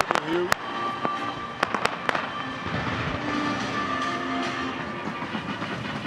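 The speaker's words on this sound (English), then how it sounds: "Look at the fireworks going off." Fireworks burst at an esports opening ceremony, sharp cracks and pops scattered through the first two seconds before giving way to a dense, continuous crackle over a roaring crowd and music.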